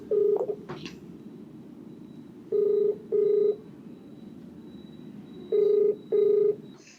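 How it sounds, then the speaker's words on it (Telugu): A phone keypad dials a number in four evenly spaced electronic tones, close and clear over a low steady hum, preceded by a brief clatter of handling at the start. "మీరు ఓకే అంటే ఒకసారి కాల్ చేసేసి."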